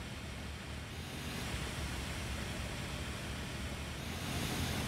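A steady, hissing rush of rail spraying from the multi-purpose vehicle in Train Simulator Classic, continuous broadband noise like surf or wind with a low rumble beneath, even and unbroken throughout.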